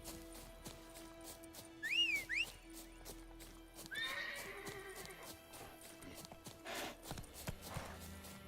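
Roach, the horse in The Witcher 3, lets out a loud whinny and clip-clops along, hooves thudding in an uneven rhythm over ambient game sounds, with a second brief neigh and scattered clatter later on.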